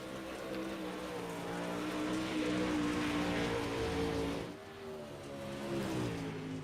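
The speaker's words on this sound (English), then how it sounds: "Really hear the power of these cars as they get off into turn number 1." Several modified race cars roar together on a dirt oval at Bristol Motor Speedway in a racing video game, their engines droning steadily and swelling as they accelerate into the first turn.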